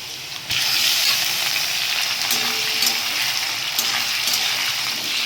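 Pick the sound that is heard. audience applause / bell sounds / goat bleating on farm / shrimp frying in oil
shrimp frying in oil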